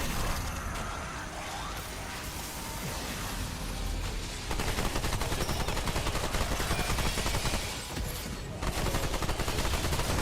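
Ranged weapons firing in the video game Remnant 2, dense rapid gunfire bursts running almost continuously and loud, with brief lulls between volleys.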